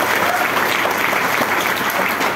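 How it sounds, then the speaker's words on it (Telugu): Steady, dense applause from an audience at a business presentation, many hands clapping together at even loudness for a couple of seconds, with no clear talk. "ఒకసారి గట్టి క్లాప్ చేయొచ్చు"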